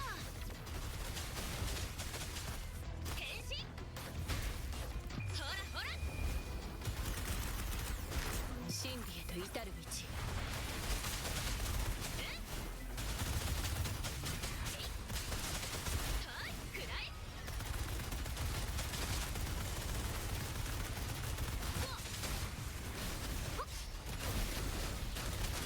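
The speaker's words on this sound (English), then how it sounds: "everything is just kind of exploding and we're rolling with it" Explosions and rapid gunfire fill a battle in Wuthering Waves, a dense, continuous barrage of bursts and whooshes with talk mixed in over the top.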